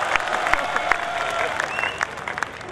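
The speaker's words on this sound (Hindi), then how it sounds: "तो जरा मारवाड़ के लिए एक बार जरा जोरदार तालियां बजा दी," Audience applause at a live Marwari comedy kavi sammelan in Bhinmal, a steady patter of many hands with a few sharper claps standing out, moderately loud and continuous throughout.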